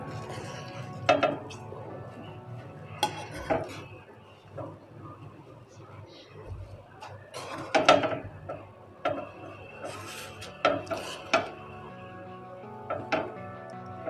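A metal spoon scrapes and clinks against a pot while cooked sweet zarda rice is stirred, giving irregular sharp knocks and taps against a quiet background.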